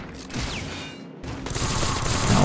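Gunfire bursts in the video game Sword Art Online: Fatal Bullet on PS4, a brief loud volley with a near pause before heavier, sustained shooting builds to the end.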